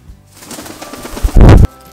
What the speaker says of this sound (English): Look, I told you the bird would get annoying.